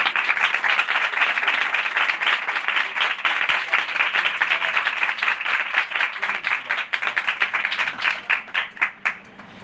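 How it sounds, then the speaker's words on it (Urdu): A church congregation bursts into loud, sustained applause that stays dense and even for several seconds, then thins into fewer, separate claps that fade out near the end. "ایک بار زوردار تالیاں"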